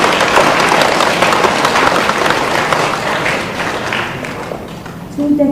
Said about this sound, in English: Please join me in giving them a well-deserved round of applause for this outstanding achievement.